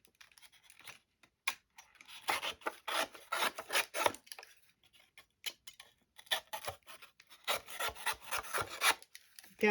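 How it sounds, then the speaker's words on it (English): Sandpaper rubs the edges of a cardboard book cover in rapid bursts of dry, raspy scraping strokes, close and fairly quiet, with short pauses between runs and no speech. "The rest of the edges will just get off with the sandpaper."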